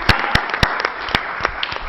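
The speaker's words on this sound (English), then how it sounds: "a good round of applause for them." A modest group at a city finance committee meeting gives a round of applause, scattered sharp hand claps over a thin wash of clapping, fairly close.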